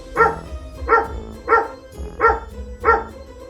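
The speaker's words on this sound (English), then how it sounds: "It's a dog. The dog goes..." A dog barks five times in an even, steady rhythm, each bark short and fairly close, with no talking over it.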